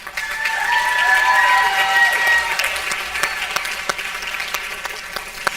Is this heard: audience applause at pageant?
yes